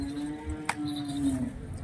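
A single long, low moo from nearby bulls at a bull market holds steady for nearly two seconds, with no talking.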